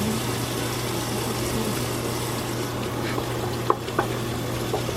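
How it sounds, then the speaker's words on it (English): Running water pours steadily while a tie-dyed cotton shirt is rinsed in it, a constant splashing hiss with a low hum underneath and a couple of faint handling knocks near the end. "So we have to rinse it until the water is clear."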